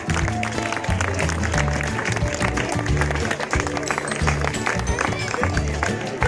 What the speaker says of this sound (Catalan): Un bon aplaudiment per ells